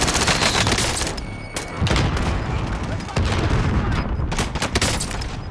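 Sustained gunfire in the Call of Duty: Warzone battle royale game, dense overlapping bursts and booming shots with loud, continuous intensity, while voices shout over the shooting.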